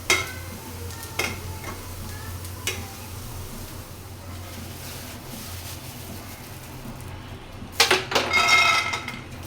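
Onion, garlic and dried chili fry gently in a pan, a soft, steady low sizzle with a few spoon scrapes early on and a clattering burst of stirring near the end.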